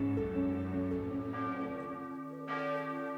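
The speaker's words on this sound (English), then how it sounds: "Are those bells I hear?" Church bells ring out in overlapping, sustained tones, a fresh strike swelling in partway through while the earlier peals linger and fade.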